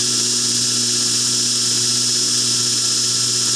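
Belt grinder grinding the bevel of a knife blade, a steady loud whirring hiss with an even motor hum underneath, continuous and close without pauses.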